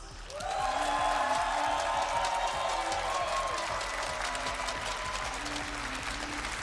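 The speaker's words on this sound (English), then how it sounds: "I want this amazing EU crowd here in Sweden to give it up for both of our amazing grand finalists" A large arena crowd at a Rainbow Six Siege esports grand final in Jönköping, Sweden, applauding and cheering the finalists, a loud sustained roar of clapping that swells quickly and holds steady throughout.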